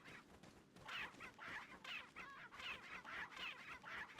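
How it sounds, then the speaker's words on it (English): A chicken in the video game Resident Evil 4 clucks in a string of rhythmic, fairly faint bursts, about a dozen short squawking calls in a row, heard alone without speech. "I've never heard a chicken sound like that."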